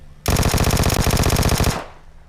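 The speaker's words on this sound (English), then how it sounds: "Full auto at close range is obviously the way to go." Vector submachine gun firing full-auto in PUBG Mobile: a loud, rapid burst of evenly spaced shots lasting about a second and a half, then a short fading tail.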